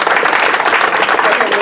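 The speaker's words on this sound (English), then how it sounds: "why don't you take a moment to give them an applause" Brief burst of audience applause during a talk by a guest speaker, dense and loud close clapping from a crowd, cut off quickly.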